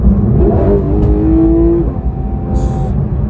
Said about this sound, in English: So when you do touch the throttle and go for it,